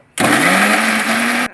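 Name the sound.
mixer grinder grinding coconut pieces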